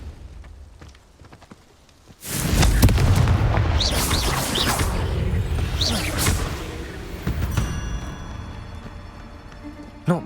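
A Confringo spell explosion in Hogwarts Legacy erupts with a sudden loud boom, then gives way to a sustained crackling, rumbling roar that slowly fades, close and dominant.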